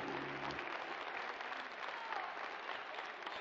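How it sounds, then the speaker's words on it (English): Soft, distant applause ripples through the crowd at a professional darts match, the 2018 Dutch Darts Masters, a brief steady patter of clapping after a short low tone at the start. "Ripple of applause for that 13 dart leg."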